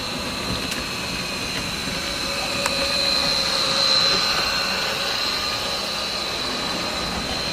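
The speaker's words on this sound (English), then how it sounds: "to catch the CSX leaving the yard tunnel" A CSX train rumbles out of a yard tunnel with a steady, even drone and a sustained high whine, holding at a moderate, fairly close level and swelling slightly midway.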